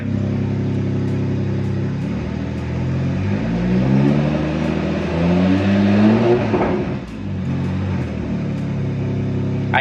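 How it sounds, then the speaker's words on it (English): A BMW 340 fitted with a newly installed big turbo runs close by, its engine droning steadily then rising and falling in a rev with shifting whine, before settling back to a loud, even idle. "I'm just turning on the car just to kind of get a feel for the overall"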